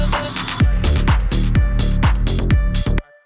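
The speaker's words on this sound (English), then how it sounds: "I have the riser sound going up at the very last bar here in this section, and then introducing this new section here, I just have some type of impact" Music production ear candy: a rising riser sweep leading into a booming impact hit, set within a beat of repeated punchy drum hits and tones, ending abruptly.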